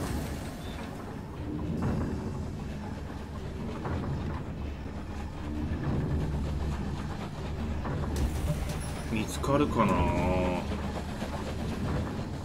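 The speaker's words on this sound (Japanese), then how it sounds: "電車だ。" A train passes in the video game Night in the Woods during a stormy dream scene, a steady rumbling roar with wind-like noise building toward the end, while a voice briefly speaks.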